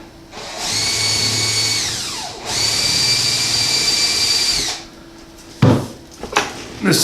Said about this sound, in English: what I'm doing right now is just drilling the pilot holes all the way through into the plywood